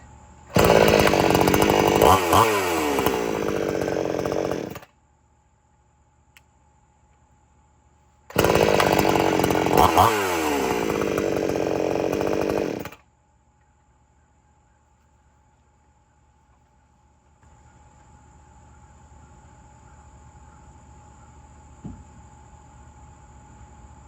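A chainsaw engine roars loudly in two bursts of about four seconds each, separated by silence, then gives way to a faint idle-like hum.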